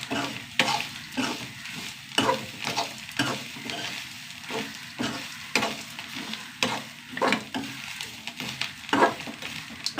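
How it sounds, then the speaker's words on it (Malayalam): A spatula scrapes a pan in quick, regular strokes over a soft sizzle as coconut is dry-roasted and stirred for sambar. "നന്നായി വറുത്ത് വരണം"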